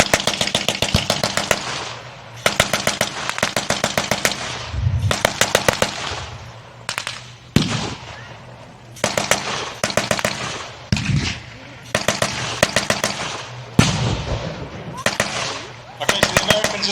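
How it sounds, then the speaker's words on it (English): American mortars and small arms fire at a WWII reenactment battle at Green Machines in Usk, South Wales: rapid bursts of sharp gunfire repeat in clusters, with heavier thumping blasts between them and a low engine hum underneath. "So there goes the American mortars."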